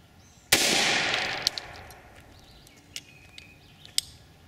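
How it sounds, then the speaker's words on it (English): Single sharp gunshot from a .410 shotgun firing a Winchester PDX1 self-defense round, loud and close, with a long fading echo and a few faint clicks and chirps afterward. "We fired the Winchester PDX Extreme 410 self-defense round"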